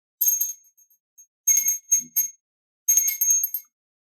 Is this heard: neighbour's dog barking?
no